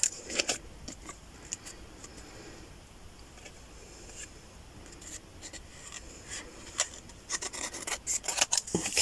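Paper being cut to size for a handmade mini journal, with quiet scratchy rasping and rubbing strokes that cluster in bursts near the start and grow busier toward the end, close and low in level.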